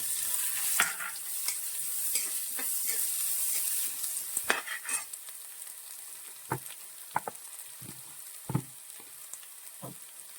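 Crushed chili and onion sautéing with browned grated coconut in a pan, a close, continuous crackling sizzle punctuated by irregular scrapes and taps of a spoon stirring.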